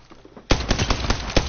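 A sudden burst of rapid video game gunfire starts partway through and keeps rattling loudly to the end, with no talking over it.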